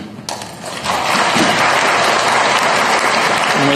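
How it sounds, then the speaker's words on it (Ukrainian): Audience applause for Vladimir Putin's speech to university graduates in Vietnam swells after a brief quieter start into loud, continuous clapping, cutting off abruptly. "Оплески, усмішки."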